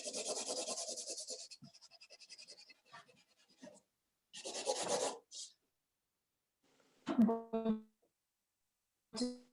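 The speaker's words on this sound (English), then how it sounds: "I'm just adjusting the tone by using my blending stick" A blending stick rubs soft pastel on a portrait in short scratchy strokes that come in bursts separated by pauses. The sound is close and dry, with a brief voice near the end.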